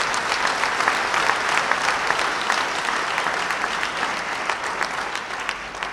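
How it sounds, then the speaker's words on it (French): A congregation at a Caritas day mass in a Senegalese church applauds loudly for the presiding priest, a thick, continuous wash of many hands clapping at even volume for several seconds. "je vous demande de l'applaudir très fort"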